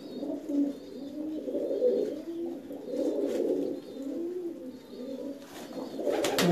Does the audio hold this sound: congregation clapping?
no